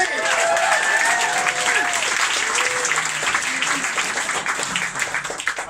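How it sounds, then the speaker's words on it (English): A bar crowd applauds a stand-up comedian with loud, dense clapping that is strongest at the start and gradually thins out, with some whoops and voices under it. "Big round of applause for Daniel"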